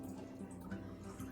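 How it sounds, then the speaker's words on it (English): Hot homemade broth pours into jars with a soft, continuous liquid trickle and faint splashing, quiet and close by, with no talking. "I'm going to just carefully pour these real full into the jars."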